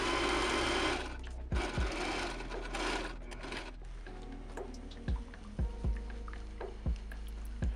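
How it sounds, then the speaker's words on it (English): A sewing machine stitches the neckline of a wedding gown closed, running in a steady continuous whir with brief pauses and soft clicks, close and alone with no talk. "I'm going to go and stitch that closed."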